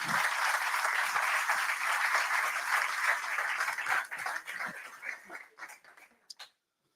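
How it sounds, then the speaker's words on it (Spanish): Audience applause for volunteers at a presentation of a cycling tour, steady dense clapping for about four seconds that thins into scattered claps and stops near the end. "yo creo un aplauso para todos esos voluntarios que tenemos aquí"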